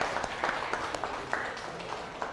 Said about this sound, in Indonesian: Ya, silakan tepuk tangan untuk kalian semua.